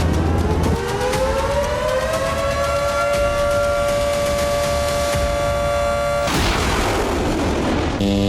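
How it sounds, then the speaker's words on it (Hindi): An air raid siren in Israel during Houthi missile attacks wails up in pitch and then holds a loud, steady tone before breaking into a harsh noisy burst that ends abruptly. "हूती के हाइपरसोनिक बैलिस्टिक मिसाइल हमलों से पूरे इजरायल में सायरन गूंजने लगे"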